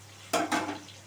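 Sliced ridge gourd is stirred in a pan for a traditional mung posto dish, giving two quick scraping, rustling strokes at close range against a faint steady background hum.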